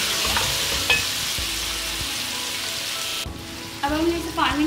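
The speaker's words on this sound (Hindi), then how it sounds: "इसे हम 5 मिनट के लिए और भूनेंगे।" Chicken frying in a pan with salt, black pepper and garam masala, a loud continuous sizzle with occasional scrapes and clinks of a spatula stirring through the pieces, and no talking.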